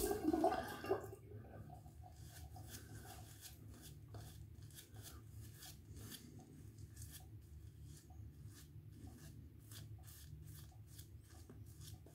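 A razor draws over lathered skin during a shave with Talbot Mont Ventoux soap, giving a soft, close, repeated rasping scrape in short strokes, faint and with no talk.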